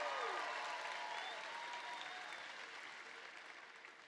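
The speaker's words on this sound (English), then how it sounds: "And you can cheer about that if you want to also." Graduation audience at the CVCC class of 2019 ceremony breaking into sustained applause and cheering, a broad wash of clapping with a few whoops that gradually tapers off, heard from a distance in a large hall.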